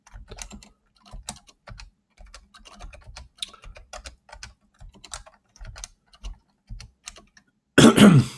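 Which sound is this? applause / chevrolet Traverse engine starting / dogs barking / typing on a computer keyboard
typing on a computer keyboard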